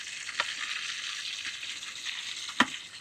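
Steaks sizzling in beef tallow, a steady close frying hiss with a couple of sharp clicks of a utensil, no voices.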